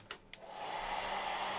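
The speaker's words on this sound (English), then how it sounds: "Hair dryers in." A hair dryer switches on after two short clicks and then runs with a steady, loud whoosh, used during an airbrushing session applying Games Workshop clear coats to miniatures.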